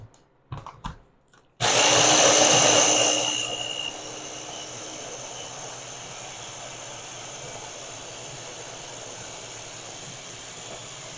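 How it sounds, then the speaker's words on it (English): A blender whirs through roasted pumpkin and pepita pesto ingredients, switching on abruptly after a few clicks, loud at first, then settling into a steady, slightly lower grinding hum. "So we got all of our ingredients in our blender."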